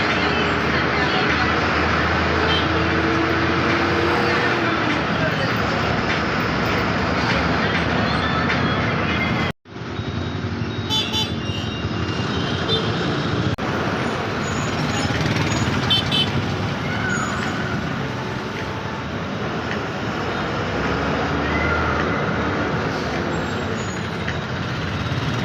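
Ride on a bus in Kollam, Kerala: a continuous loud rumble of the moving bus with road and engine noise, briefly cutting out near the middle, then resuming with rattles and traffic sounds; faint voices mix in at times.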